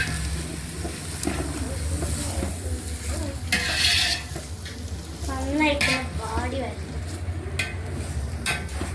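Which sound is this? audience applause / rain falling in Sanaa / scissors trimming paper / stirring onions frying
stirring onions frying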